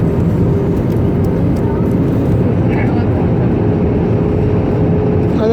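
A passenger airplane landing at Chennai airport at night, its engines and cabin rumble forming a loud, steady low roar heard from inside the cabin, continuous and unbroken throughout.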